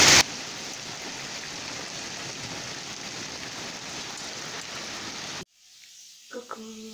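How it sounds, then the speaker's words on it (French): Hail pours down during a spring thunderstorm, a dense steady hiss and patter for about five seconds before it cuts off abruptly, followed by quiet with faint tonal sounds. "censé être au printemps et il grêle du tonnerre"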